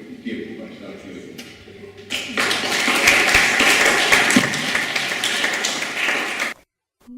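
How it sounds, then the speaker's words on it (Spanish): An audience applauds to welcome a speaker at a lecture, a burst of clapping that swells, holds steady for several seconds and then stops abruptly, with a voice heard faintly before it starts. "recibamos con ese aplauso, en el mejor de nuestros aplausos, a nuestra profesora"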